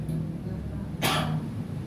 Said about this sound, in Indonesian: saya ngalamin batuk seperti ini